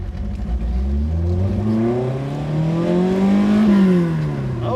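A restomod Fiat X1/9 pulls away under acceleration, its engine close and loud, the pitch climbing through the rev range, dipping, then rising again.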